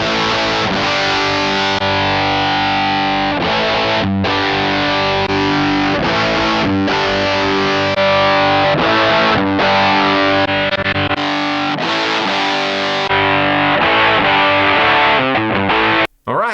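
Heavily distorted electric guitar riffing through the high-gain amp and cabinet modeling of a Korg AX1500G, thick and loud, with chugging chords and short breaks, no voices.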